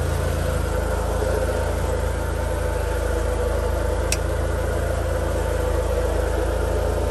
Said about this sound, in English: Feel like it's not a good connection because the engine ain't turning as quick.